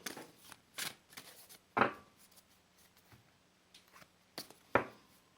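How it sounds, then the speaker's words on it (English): Tarot cards are shuffled by hand in quiet, scattered bursts of crisp riffling and soft slaps, several separate shuffles with short pauses between them, close and fairly faint. "I'm going to shuffle and do the Celtic Cross for you"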